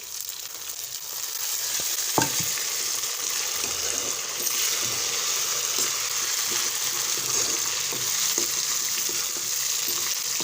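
Steady sizzling of tomatoes and onions frying in a pan, with a few stirring clinks and scrapes, close by and moderately quiet.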